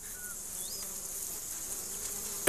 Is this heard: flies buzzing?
yes